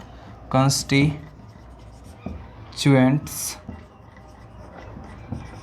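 Chalk or marker writing on a board during a chemistry lesson on atomic mass, soft scratchy strokes underneath a teacher speaking, with short bursts of talk over quiet scraping.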